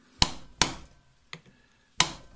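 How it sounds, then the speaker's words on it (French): Sharp metallic taps knock back a lock washer against a nut on a motorcycle engine, four distinct close strikes spaced unevenly with quiet gaps between. "On va rabattre la partie de la rondelle qui freine l'écrou."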